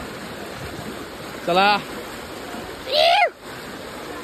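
Fast-flowing river water near Kedarnath rushes in a steady, broadband roar throughout, while a voice speaks briefly twice over it.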